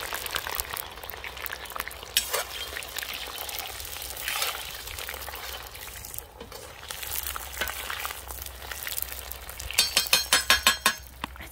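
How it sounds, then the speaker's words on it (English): Onions frying in a pan over a fire outdoors, a steady crackling sizzle with occasional clinks and scrapes of a utensil, growing into a brief rattling burst near the end. "Fried onion."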